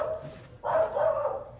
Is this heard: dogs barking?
yes